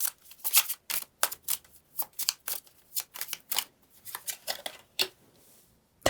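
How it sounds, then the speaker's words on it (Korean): Tarot cards shuffled and drawn in a run of quick, crisp riffling bursts and flicks, close and fairly quiet, with no voices. "카드를 뽑아볼까요?"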